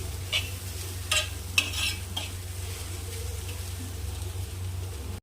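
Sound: stir-frying crushed sambar onions in a pan

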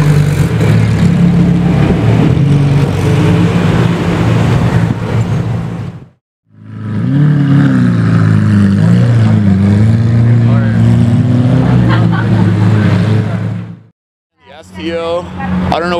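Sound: Lamborghini Aventador SV with race exhaust revving

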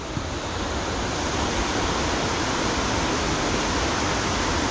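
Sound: waterfall rushing water

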